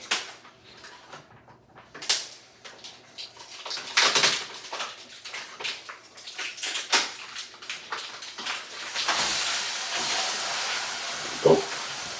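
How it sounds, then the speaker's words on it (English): Meat sizzling in a hot pan, a bright hissing crackle that swells and fades with irregular pops and bursts, close and fairly loud, growing denser toward the end. "Let that meat sizzle."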